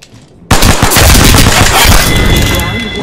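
Rapid automatic gunfire bursts in the Apex Legends video game, loud and close, with overlapping shots forming a dense fusillade after a brief quiet start.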